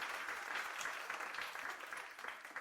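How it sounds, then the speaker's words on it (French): A short burst of steady applause, many hands clapping together at moderate distance, with no voices over it. "on applaudit Nina très fort."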